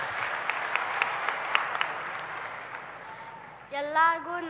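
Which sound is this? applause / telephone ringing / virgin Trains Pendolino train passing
applause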